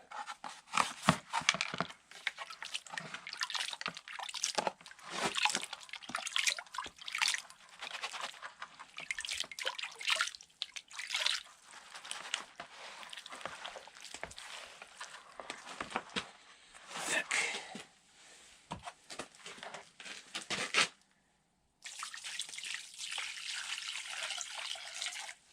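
Gold-bearing material is washed by hand in water in a small basin during a winter dig at minus 25 °C. Splashing, sloshing and dripping come in irregular bursts nearby for a long stretch, with a brief break before they resume.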